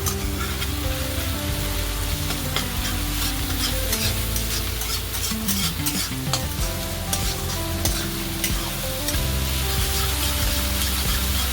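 Ginger garlic paste and green chilies sauté for Amritsari Punjabi-style chole, a loud, dense, continuous sizzle with fine rain-like crackle and occasional stirring scrapes, close and steady with no voices.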